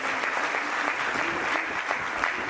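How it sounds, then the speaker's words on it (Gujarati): A crowd at a community get-together of a Patidar society in Navsari claps steadily, a dense, even round of applause from many hands with individual claps popping out, continuous and fairly close throughout. "તો આપણે ખૂબ ખૂબ તાળીઓથી વધાવી દઈએ"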